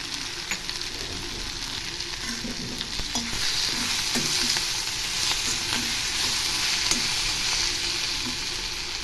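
Onions sautéing in a pan for onion sambal, with steady broadband sizzling and repeated stirring scrapes throughout, growing slightly louder midway; no voices.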